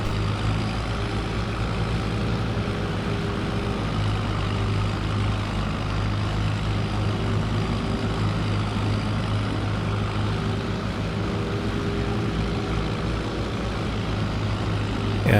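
A tractor pulling a large mower across a small field drones with a steady, loud engine rumble and a deep low hum, running continuously without pause, with no voices.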